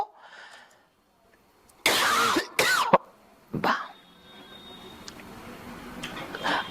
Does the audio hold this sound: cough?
yes